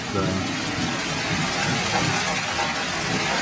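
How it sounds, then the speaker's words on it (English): Steady rainfall hisses continuously across the whole stretch, with a low rumbling underneath suggesting distant thunder; no voices. "we're getting a little bit of rain"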